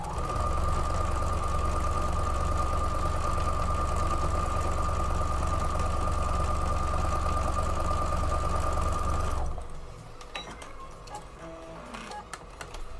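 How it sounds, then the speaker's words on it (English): A sewing machine stitches a quilt block in a steady, continuous mechanical hum with a fast repetitive tick, running close and loud for about nine seconds before stopping abruptly, leaving quiet room sound with faint small clicks. "I'm going to leave my needle down and just spin it around and sew up on the other side now."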